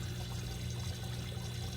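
Water draining from a compact hydroponic flood and drain tomato system, a steady continuous pouring and trickling rush that holds level throughout, close by with no talk.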